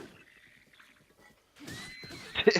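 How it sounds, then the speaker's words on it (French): A horse whinnies loudly in Zelda: Breath of the Wild after being frightened, a high shrill neigh rising over faint game ambience and quiet talk. "le cheval a pris peur et s'est barré."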